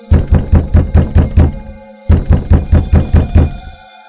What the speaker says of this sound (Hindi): अगली रात चुड़ैल फिर से पूनम के पड़ोसियों के घर का दरवाजा खटखटाती है।